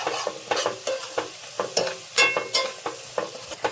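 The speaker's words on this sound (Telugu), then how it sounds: "ఉల్లిపాయలు కొంచెం దగ్గరకు వచ్చేసినాయండి, బాగా మగ్గిపోతున్నాయి" Onions cook in a pan with a soft, steady sizzle, while a spoon scrapes and stirs them in quick, repeated strokes close by, with no voices.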